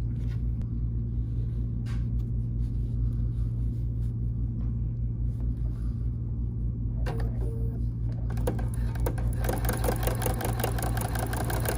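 A BERNINA sewing machine fitted with the #86 Ruffler attachment runs at a steady mechanical hum for a long stretch. Its whirring picks up louder, busier ticking near the end, and nobody talks.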